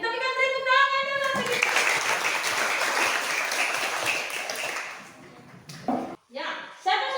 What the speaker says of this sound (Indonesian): kita berikan tepuk tangan anak